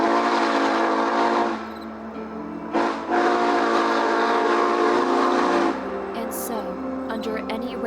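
A scenic excursion train, Mountain Thunder, rolls downhill around a curve in the rain, its whistle sounding loud and sustained over rumbling wheels, then fading to a lower rolling noise with a few squeals.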